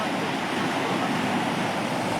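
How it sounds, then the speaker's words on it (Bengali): Sea waves roll in on the breezy Henry Island beach near Bakkhali, forming a continuous broad roar of surf and wind that stays steady and fairly loud throughout. "এটা ঢেউ আছে, সুন্দর ঢেউ হচ্ছে এখানে"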